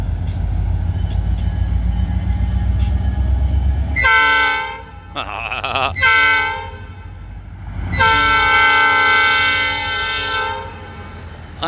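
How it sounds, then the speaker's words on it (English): A big blue locomotive rumbles past a crossing and sounds its horn in several loud, sustained blasts with brief gaps. The heavy rail noise fills the scene close by. "you didn't see that gigantic blue locomotive coming up to the train tracks"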